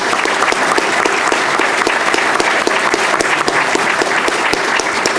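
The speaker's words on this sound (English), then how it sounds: "round of applause and good job." A seated audience at a City Club forum on the future of print media gives a loud, sustained round of applause, dense and steady clapping filling the room without a break.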